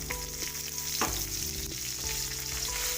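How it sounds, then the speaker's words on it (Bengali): A piece of rohu fish fries in hot oil in a kadai, throwing off a loud, continuous sizzle with occasional crackles and a brief scraping stir, and nobody speaks. "আরেক পিস মাছ আছে, এটা ভেজে নেব"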